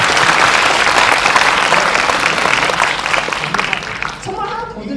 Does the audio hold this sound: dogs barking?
no